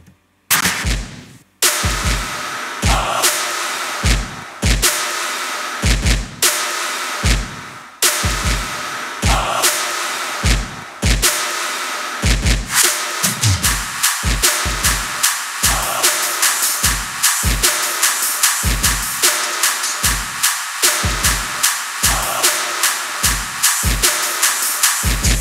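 Electronic drums hit in sparse punchy bursts, then settle into a steady, driving dance beat with tight, regular kicks and snares.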